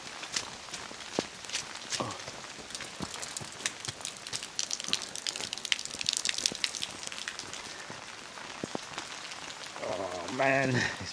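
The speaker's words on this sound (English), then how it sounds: "Oh, more rain." Steady rain falling outside during wall-building work, a dense continuous hiss of drops with scattered sharper taps, moderately close, and a brief low voice near the end.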